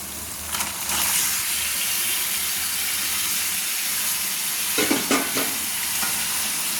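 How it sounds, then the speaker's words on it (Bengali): Marinated mutton pieces frying with spices in a kadai, stirred steadily, giving a loud continuous sizzle with scraping stir strokes throughout and a few sharper clanks near the end. "এবার এই মটনটাকে আমি নাড়ছি, ভালো করে নেড়ে নিচ্ছি।"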